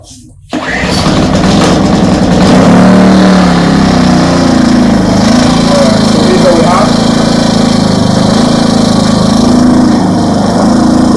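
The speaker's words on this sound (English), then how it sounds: "you should know how to kickstart an inverter generator" An inverter generator engine is kickstarted and catches at once, then runs loud and steady close by with a constant buzzing drone. A person talks faintly beneath it.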